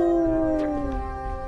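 A human voice imitates a dog howling, lifting its snout upward: one long, loud, drawn-out howl that slowly falls in pitch, then trails off with a few softer wavering notes.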